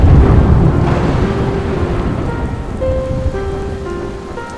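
Heavy rain pours steadily in a flood-prone village at the confluence of three drainage systems, with a low rumble that could be distant thunder, while faint steady tones ring over the dense rain noise.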